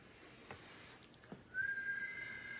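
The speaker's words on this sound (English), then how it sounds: "when you inhale, and then you exhale with like a whistling when you exhale." A whistling exhale during a breathing exercise, heard as a faint, thin whistle that starts partway through and holds steady over quiet breath noise.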